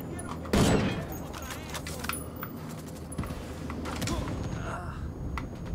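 Explosions and gunfire in the tactical shooter Ghost Recon Wildlands, a loud blast near the start followed by scattered sharp cracks and rumbling through a busy battlefield mix.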